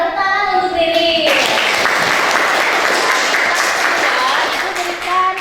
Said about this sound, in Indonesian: tepuk tangan untuk Ririn